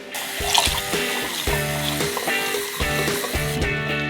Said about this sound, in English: fill it with cold water from the tap